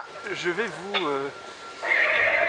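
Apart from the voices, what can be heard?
horse neighing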